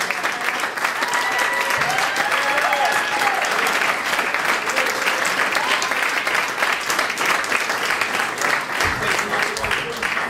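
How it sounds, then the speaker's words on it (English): Sustained applause from an audience for the St. Mary's jazz group after a school jazz performance, dense steady clapping filling the whole stretch without a break. "If you're a St. Mary's jazzer, stand up right now and take your applause."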